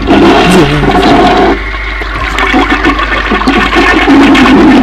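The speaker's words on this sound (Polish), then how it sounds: "nie to spłukał kibel" A toilet flushes loudly and close: a rushing surge of water that dips and swells again as the bowl drains and refills, with no one speaking.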